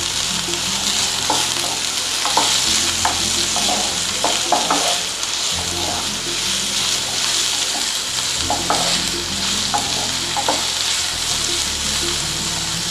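Chopped capsicum sizzles steadily in a hot pan while being stirred, with scraping and clinking of a spoon through continuous frying noise, close and fairly loud, no talking.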